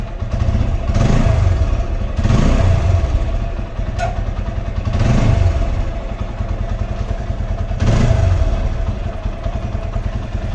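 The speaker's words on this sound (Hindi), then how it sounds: "इसके थोड़ी देर रेस दे देते हैं" A motorcycle engine, one of a Pulsar RS 200, Apache 180 or cafe racer started after two months idle, revs repeatedly in rising swells over a steady loud idle, close up with mechanical clatter and no talking.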